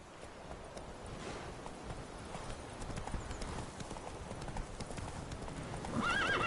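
Roach, a horse in a video game, gallops with a rapid, continuous clip-clop of hooves close by, and a whinny rises near the end.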